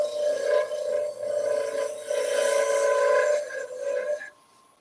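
Wood gouge cutting a spinning blank on a wood lathe while shaping a turned owl: a steady, close rasping cut over a humming motor tone that stops abruptly near the end.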